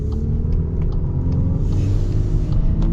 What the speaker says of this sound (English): This engine's got quite a bit of torque actually for a little 4-cylinder.